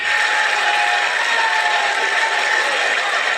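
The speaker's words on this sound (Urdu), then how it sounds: "بھرپور تالیوں میں تشریف لاتے ہیں جناب تہذیب حافظ" An audience at a poetry gathering claps to welcome poet Tehzeeb Hafi, a dense, even wash of applause at steady loudness throughout.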